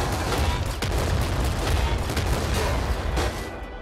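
Sustained rapid gunfire in a shooter game, a dense, loud barrage of overlapping shots and booms that hammers on without pause, easing slightly at the very end.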